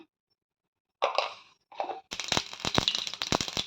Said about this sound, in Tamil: கடுகு பொரிஞ்சிச்சுங்க.